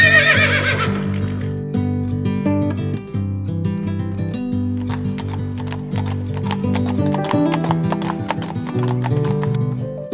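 Horses ridden by cattle herders on the open Rupununi savanna grasslands in Guyana clip-clop steadily, with a horse whinnying at the start and music playing throughout.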